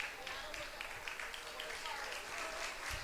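Distant applause from a crowd at a high school track and field championship, steady and faint, with a voice speaking faintly under it.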